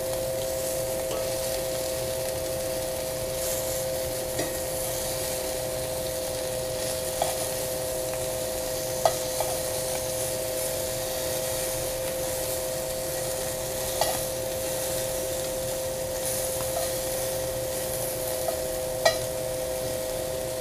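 Scallops sear in an oiled pan, giving a steady, even sizzle throughout with occasional soft scrapes and taps as they are flipped. No talking.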